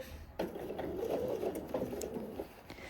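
A sewing machine stitches a garment shoulder seam in a brisk, continuous run of rapid needle clatter at close range, with a few brief pauses and knocks.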